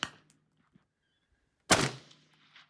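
Gunfire at a night shooting range: a sharp report at the start, a couple of faint clicks, then a loud close shot whose ringing echo trails off across the open range.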